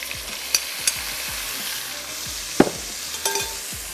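Onions frying in a pot for tikka biryani, a dense continuous sizzle broken by a few sharp clinks and scrapes of a utensil, close and alone.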